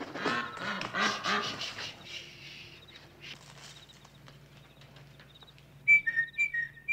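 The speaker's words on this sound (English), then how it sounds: "your ducks are loose" Loose ducks quack in a neighborhood at night, a burst of close, raspy quacks at first that fades to quiet, then a few sharp whistle-like calls near the end.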